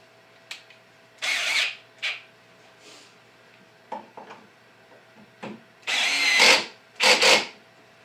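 Black+Decker 20V MAX LDX120C cordless drill/driver driving a screw home at torque setting 10, several short whirring bursts that stop and start, with a pair of longer runs near the end, close and fairly quiet with no talk.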